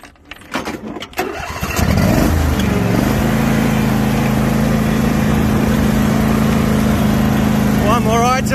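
A ride-on lawn mower engine cranks with a few rough starting bursts, then settles into a loud, steady running drone close by, with a brief squeak near the end.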